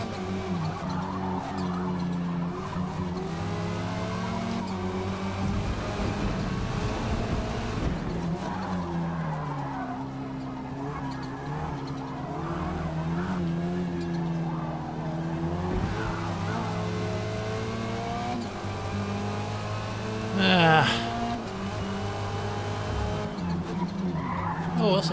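Race car braking hard and skidding in Forza Motorsport, an engine droning and shifting pitch under sustained tire squeal, with a sharp rising screech near the end, and a voice talking over it now and then.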